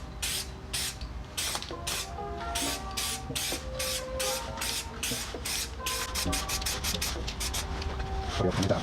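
Spray paint hisses onto an OMP strut brace from a Mk6 Fiesta in a light coat, a long run of short, loud, close bursts pulsing steadily, quickening into rapid puffs near the end.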